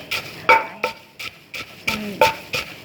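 Peanuts being pounded to split them from their shells: a steady series of about eight dull, knocking thuds at a regular rhythm, close and moderately loud, with no talking.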